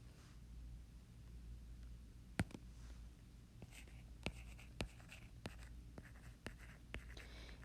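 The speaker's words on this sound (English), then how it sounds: "I'm going to write this so you can see it a little bit better" Pen or marker writing notes by hand during a lecture on ocean current measurement, a string of sharp, faint taps and strokes over a low steady room hum, with no talking.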